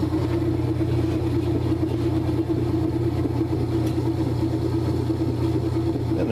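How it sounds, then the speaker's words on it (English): A repaired Kenmore washing machine spins its drum with a steady, even hum and low rumble, constant and unbroken for several seconds with no voices. "And the washer is spinning."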